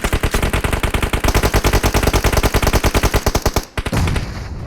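Rapid automatic gunfire in the PUBG Mobile game, loud, close bursts of evenly spaced shots for about four seconds, then a brief pause and a lingering noisy tail.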